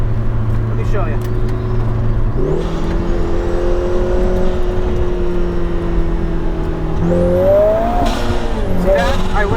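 A 2025 Lotus Emira 2.0T accelerates hard with engine tone climbing steadily, then drops in pitch at a delayed dual-clutch upshift before rising again, loud and close throughout, with a voice talking over it.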